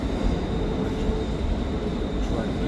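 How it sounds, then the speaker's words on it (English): Trains roll side by side into Glasgow Central station, a loud, continuous rumble of wheels and carriages close by, with a faint high squeal running over the low drone. "Oh, there's a train race. There's another one over there going in at the same time."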